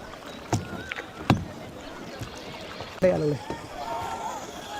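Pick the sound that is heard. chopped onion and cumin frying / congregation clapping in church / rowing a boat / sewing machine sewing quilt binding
rowing a boat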